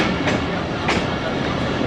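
A passenger train runs along the Narowal branch line, a steady close rumble of rolling wheels with two sharp clacks over rail joints.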